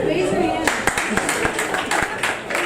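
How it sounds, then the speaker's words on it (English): A comedy club audience at an LGBT comedy night bursts into clapping, a dense spread of applause that carries through the clip with sharper individual hand claps standing out, mixed with crowd murmur. "Round of applause."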